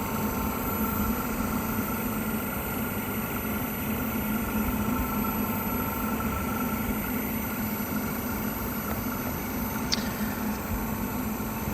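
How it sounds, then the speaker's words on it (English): Senville mini-split air conditioner compressor running smoothly after a P4 error fault was fixed, a steady low hum with faint even whirring, heard alone without speech. "This compressor's running so smooth."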